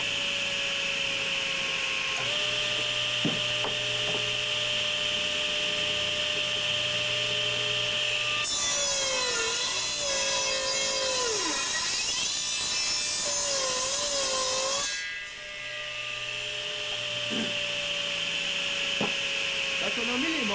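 A wood-cutting machine slices the other side of a wooden piece in a loud, sustained rasping cut lasting several seconds, framed by a constant motor hum before and after, with faint speech in the background.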